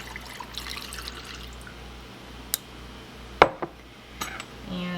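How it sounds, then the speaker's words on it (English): Cold brew coffee is poured into a sweetened drink with syrup in a home kitchen: a faint trickle of liquid with a few sharp glass and utensil clinks, close by and quiet, without talk. "And then you're going to add in your cold brew coffee."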